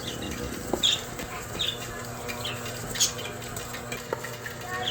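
An electric mixer beats butter for cookie dough at a steady speed, a low continuous motor whir with scattered clicks and scraping, while a person talks nearby.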